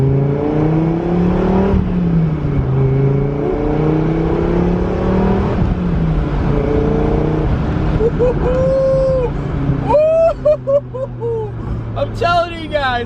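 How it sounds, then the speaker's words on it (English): A 2002 Dodge Viper pulls hard, its engine rising through several long accelerating sweeps and shifts, loud and close, ending in quick sharp revs. "Let's get one more quick pull before we park this thing."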